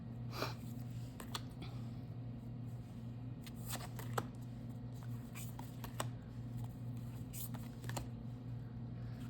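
Tarot cards from Canadian decks being handled and shuffled, with soft, close riffling and flicking that repeats steadily for about nine seconds. The sound is quiet, with occasional sharper snaps.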